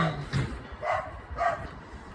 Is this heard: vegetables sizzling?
no